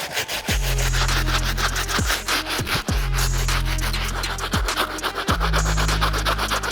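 A stiff bristle brush scrubs the rubber outsoles of Jordan 4 sneakers in steady back-and-forth strokes, loud and close, with a rhythmic rasping that repeats about every second and a half.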